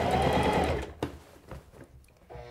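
A SINGER Classic 44S sewing machine stitches a hem, running steadily for under a second before stopping, followed by a few light mechanical clicks and a brief restart, close and clear with no talking.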